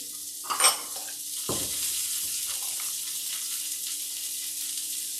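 Shrimp go onto a grill with a brief clatter and a thud, then a steady, even sizzle continues at moderate level with no talk.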